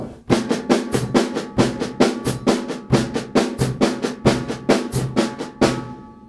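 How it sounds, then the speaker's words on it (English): Jazz drum kit played alone in quarter-note triplets, with accents led by the right hand over a bar of triplets; a steady, evenly spaced run of crisp, loud hits with cymbal wash ringing through. "if you take a bar of triplets and just accent the right hand, if you're leading with the right, that'll give you the sound of quarter note triplets"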